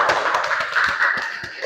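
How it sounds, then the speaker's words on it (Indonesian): A school class claps hands together in a quick burst of many overlapping claps, brisk and fairly close, lasting under two seconds. "Bagus, tepuk tangan."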